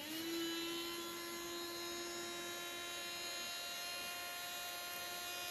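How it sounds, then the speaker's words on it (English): A small handheld barbecue blower runs steadily and close by with a constant motor whine, used to push white paint across colours in an acrylic spin bloom pour. "And I'll use my little barbecue blower."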